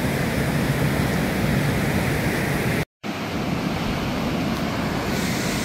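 Ocean waves wash onto a beach in Aceh, a dense, steady roar of surf that fills the scene and drops out for a split second midway before carrying on just as loud.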